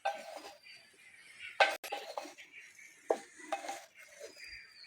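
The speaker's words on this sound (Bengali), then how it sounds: "ভালো করে নেড়ে চেড়ে নেবো।" A spoon stirs basanti pulao with ghee and sugar in a pot, giving close scraping and irregular metallic clinks against the rim in short bursts, with no one talking.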